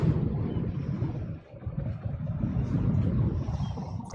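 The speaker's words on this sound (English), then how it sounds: "It's too windy right now," Wind blows hard outdoors, buffeting the microphone in a dense low rumble that dips briefly before surging back, loud and continuous with no talking.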